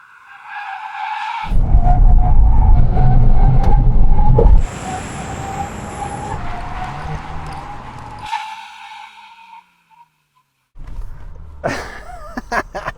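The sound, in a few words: VW Golf GTI cars brake test from 160 km/h, tires skidding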